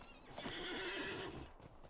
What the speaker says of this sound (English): we can get on our horse and we can go ride back to Dwaling